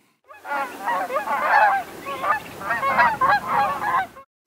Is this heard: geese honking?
yes